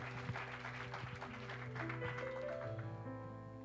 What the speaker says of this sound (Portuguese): Dá um aplauso a Jesus por isso.